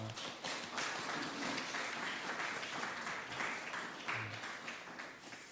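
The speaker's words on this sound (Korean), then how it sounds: "우리 옆에 있는 분들 박수로 환영했으면 좋겠습니다" A congregation at a Sunday worship service in a Darmstadt church applauds in welcome, a dense, steady patter of many hands clapping together at moderate volume throughout.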